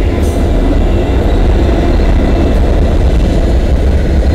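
A CN freight train, M301, rumbles steadily past nearby on the Dundas Subdivision in London, Ontario, loud and continuous, with rolling wheel clatter and a broad roar of rail cars.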